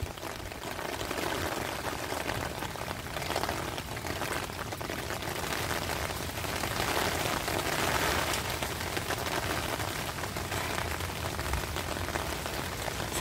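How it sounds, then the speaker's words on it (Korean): Steady rain during a typhoon pours down and patters on a hard surface outdoors, a dense continuous hiss with no pauses across the whole stretch. "우리 사랑이가 비 다 맞았네"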